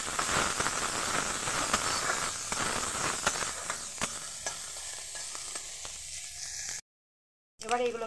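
Dried loitta fish fries in a pan with a loud, continuous hiss and spitting sizzle, broken by occasional stirring scrapes, then a brief silence and a short burst of voice at the end.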